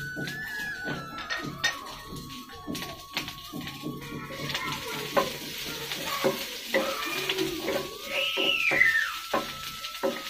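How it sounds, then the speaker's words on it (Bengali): Onions, green chilli, ginger and garlic fry in a pan for an egg chop, with close stirring clatter and scraping of utensils over a steady sizzle; no talk. "পেঁয়াজগুলো হালকা বাদামি করে ভাজা হয়ে গেছে"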